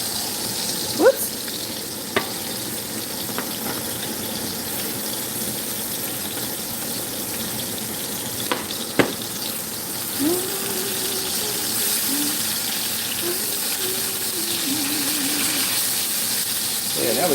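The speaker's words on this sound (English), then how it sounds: "now we got the sausage cooking" Sausage links fry on an electric stove burner set to number 2 for a Southern Sunday breakfast, giving a steady, close hiss and sizzle with a few sharp pops and clicks while voices murmur faintly underneath.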